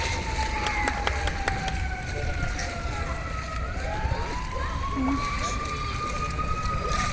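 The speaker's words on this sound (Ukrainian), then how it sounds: "Вже їде пожежна." A fire engine siren wails steadily in a park setting, its rising and falling tone sustained over constant outdoor noise at moderate distance.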